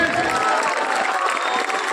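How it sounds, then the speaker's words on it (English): Audience applause at a school annual sports meet and prize distribution, a steady wash of clapping from a crowd that holds evenly throughout. "Give a big round of applause for yourself."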